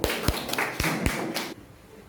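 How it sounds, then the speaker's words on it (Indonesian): Enthusiastic clapping welcoming the third group at a teaching performance assessment, heard as a dense burst of hand claps with a few sharp louder claps on top, ending after about a second and a half. "Pada kelompok ketiga, mari kita sambut dengan tepukan yang semangat."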